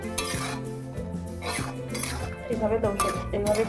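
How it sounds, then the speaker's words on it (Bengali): Boiled mixed vegetables stirred in a metal cooking pot, a spoon scraping and clinking against the sides in repeated strokes, with someone talking over the stirring. "ঘেটে দিচ্ছি আমি, তারপর নামিয়ে নেব"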